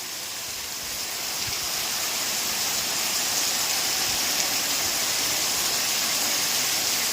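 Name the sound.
heavy rain pouring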